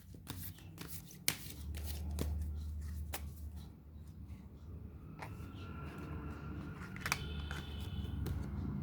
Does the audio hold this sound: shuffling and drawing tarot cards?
yes